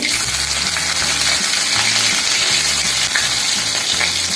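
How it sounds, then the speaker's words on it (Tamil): Mustard seeds frying in sesame oil give a loud, dense crackle and sizzle close by, with rapid popping and some low rhythmic clatter under it, continuous throughout. "எண்ணெய் நல்லெண்ணெய் வச்சுருக்கோம் இல்லையா அதை ஊற்றிடலாம் கடுகு போட்டுடலாம்"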